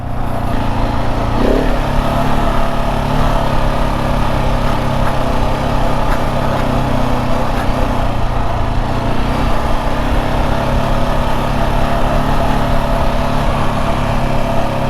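A KTM 690 Enduro R motorcycle rides along Lincolnshire country lanes, its single-cylinder engine droning loudly and steadily for the whole stretch with little variation and no voices.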